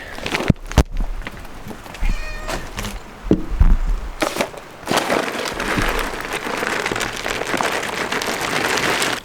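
A cat meows a few times around a barn, mixed with knocks, clatter and a broad rushing background noise that builds toward the end.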